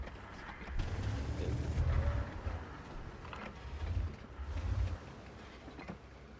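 Heavy cannon blasts from an AAT60 tank in a video game boom out as low, rumbling thuds, two or three spaced shots with rolling tails over a faint engine and mechanical hum.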